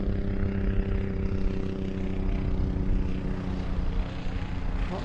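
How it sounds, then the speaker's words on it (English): A DC-3 airplane's engines drone in Microsoft Flight Simulator, a steady, loud, continuous low hum with layered tones holding throughout without pause. "Goofy RS's airplane sounds nuts."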